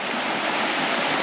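Creek water rushes at Josephine Falls in a dense, loud, continuous roar of flowing water, close and alone.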